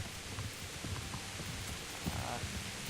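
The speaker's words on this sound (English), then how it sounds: "Jesus, look at this rain. It ain't no light rain." Heavy rain in the video game Kingdom Come: Deliverance forms a dense, steady hiss of downpour throughout, quiet overall, with faint thuds and footfalls scattered beneath it.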